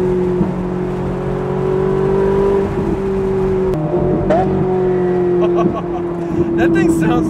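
A Ferrari engine revs and drops through downshifts on a road, heard from inside a nearby car as a loud, wavering drone with a sharp blip midway, while people talk over it.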